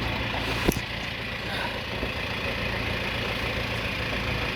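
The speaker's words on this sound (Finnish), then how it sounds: "Moottori käy todella nätisti ja hienosti." A sailboat's engine idles in reverse gear with a steady, even, low hum and one brief knock near the start.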